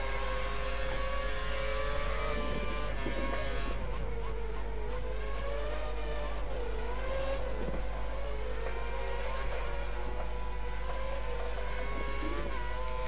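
Formula 1 car engine from F1 2013 on a cool-down lap in Australian qualifying, a steady droning whine that rises and falls gently with throttle, moderately loud and continuous throughout.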